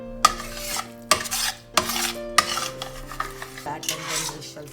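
A metal spoon stirs thick mutton gravy in a pressure cooker, with rhythmic scraping and clanking strokes against the pot and a soft bubbling sizzle underneath, close and loud.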